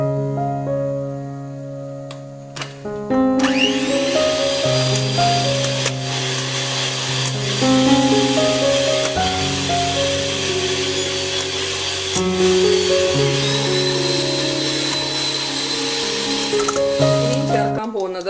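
An electric mixer beats Black Forest cake batter in a home kitchen, a steady whirring motor hum running for most of the clip over light background music.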